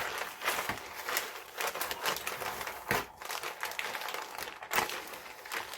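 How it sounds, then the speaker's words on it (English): A plastic bag dabs and presses wet gesso off a mixed media page, giving a close, continuous crinkling and rustling with rapid crackly taps throughout. "I'm going to use that plastic bag to lift the gesso off."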